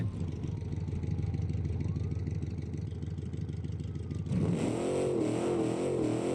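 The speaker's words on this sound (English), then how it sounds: "just peppering the throttle mid-drift" A Corvette fitted with a 21-liter engine in the BeamNG driving game revs hard while drifting, a loud continuous engine roar whose pitch shifts sharply partway through as the throttle is blipped.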